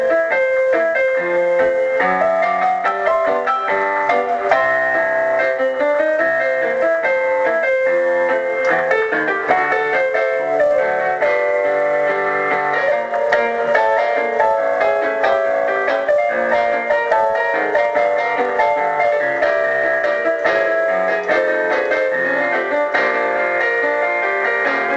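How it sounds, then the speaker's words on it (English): Gramophone piano preset from the iGRAND piano app on iPad, playing a continuous, full melody with a thin, band-limited record-player tone and steady crackle throughout, no talking. "So gramophone piano sounds like this."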